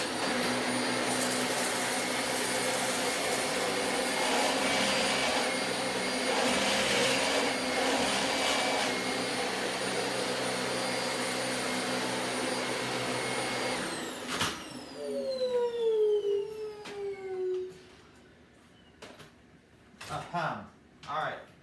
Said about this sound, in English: Dyson DC25 Animal.